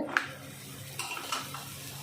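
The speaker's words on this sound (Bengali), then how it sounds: "দেখো এখন ভাজা হচ্ছে" An aloo paratha made with whole-wheat flour fries in a pan with a soft, continuous sizzle, broken by a few light scrapes and clinks of a utensil, close and moderately loud, with no voices.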